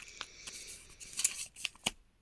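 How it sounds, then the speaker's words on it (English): Scissors snipping open a package of mystery wax shapes, several quick close cuts in short bursts, ending in a brief silence. "the amount of things I have to open with scissors today"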